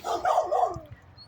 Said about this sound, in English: you can hear the dogs barking for 20 minutes.